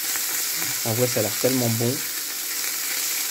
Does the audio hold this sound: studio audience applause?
no